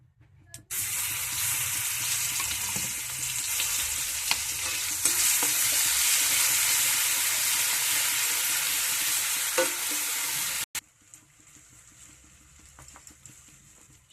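Spice paste for a royal-style egg dish sizzles loudly and steadily in a hot pan while being stirred, a dense frying hiss for about ten seconds that then drops to quieter scraping and faint sizzle.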